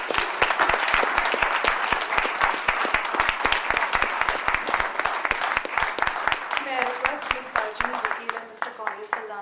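Sustained enthusiastic audience applause at an education award ceremony, steady rhythmic clapping from a crowd filling the room and continuing for several seconds before gradually thinning out.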